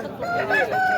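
A country rooster crows at a Saturday native-chicken market, one loud, close call held for the whole second with no talk over it.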